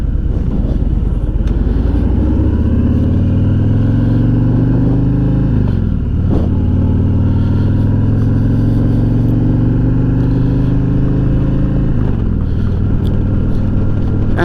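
A 2021 Harley-Davidson FreeWheeler motorcycle on the road toward East Hampton, New York, with a loud, steady engine drone that rises and falls through gear changes, heard up close from the rider's position, with wind rushing underneath.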